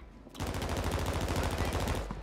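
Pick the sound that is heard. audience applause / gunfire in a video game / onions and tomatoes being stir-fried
gunfire in a video game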